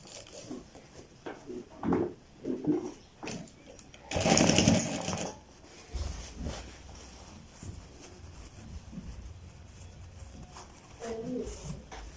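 A sewing machine stitches children's pajamas in short bursts, with a louder buzzing run in the middle, close by, between stretches of someone talking.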